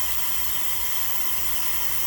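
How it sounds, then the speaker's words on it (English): Constant hissing of steam escaping a T-fal pressure canner, a close, unbroken airy rush that holds level throughout. "You can tell from the steam, the sound of the steam."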